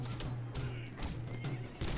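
Horse neighing in the medieval combat game Mount & Blade: Warband, Gekokujo mod: several loud, close whinnies in quick succession over hoofbeat clip-clop and battle noise, with no talk.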